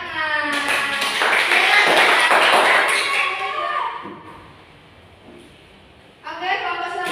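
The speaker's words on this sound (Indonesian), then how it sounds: "Oke, tepuk tangan." Students in a classroom clap together in a loud burst with children's voices mixed in, then the room falls quiet before a brief flurry of clapping starts again.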